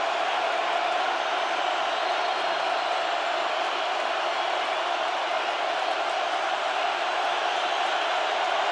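A crowd roars steadily and loudly in a stadium at a 2012 Seattle Seahawks home game against the 49ers, a dense, unbroken wall of cheering that holds without pause throughout.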